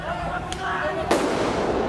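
Two sharp bangs of tear gas shots fired by police at a protest, one faint and one louder, ring out over crowd noise and talk.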